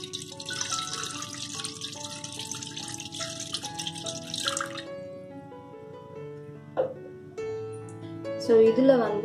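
About 200 ml of water is poured into a pan on a lit stove while preparing a crispy prawn fry, a steady trickling splash running under continuous speech, followed by light clinks of kitchenware.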